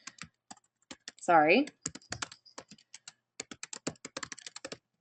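Rapid clicking of keys on a computer keyboard, in uneven bursts with short pauses, and a brief spoken word partway through.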